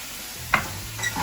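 Chopped garlic sizzles and is stirred in a skillet, a soft crackle with a brief louder scrape near the middle and another short stir toward the end, no voices.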